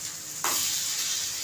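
Small healthy snack pancakes sizzle in a pan as one is flipped, a steady bright hiss that jumps louder at the turn and keeps frying close up without talk.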